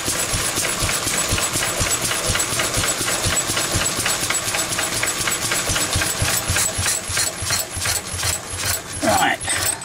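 A small engine drives a paint mill by belt, chugging in a rapid steady knock with rattling and clatter throughout, and a voice is briefly heard near the end.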